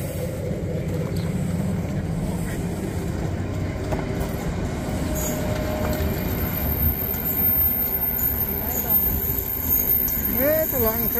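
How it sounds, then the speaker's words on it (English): The Arctic sleeper train running from Stockholm to Abisko pulls away from the station with a continuous rumble, rail clatter and faint wheel squeals near the end, while people talk nearby. "There goes the train."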